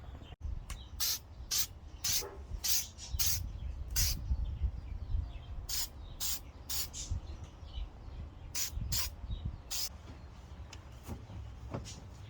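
Aerosol clear coat sprayed onto a Honda Accord headlight in a series of short sharp hissing bursts, irregularly spaced and close, over a low background rumble.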